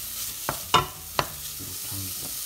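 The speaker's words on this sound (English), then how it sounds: "Now followed by our smoky pancetta." Smoky pancetta frying in a pan over softened, translucent vegetables, a soft sizzle under a few sharp scrapes and clicks of stirring, close and quiet.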